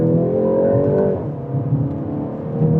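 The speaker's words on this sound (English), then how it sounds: "You can hear a few pops in the exhaust too, but it's not overly loud." A 2026 Volkswagen Golf GTI accelerates hard on the Autobahn, its engine droning close and loud with rising pitch, then dipping at a gear change before pulling again, with faint pops from the exhaust.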